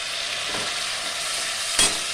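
Ground mustard and poppy seed paste sizzling gently in a pan for a prawn bhapa, a soft steady fry with a single clearer scrape of stirring near the end, no voices.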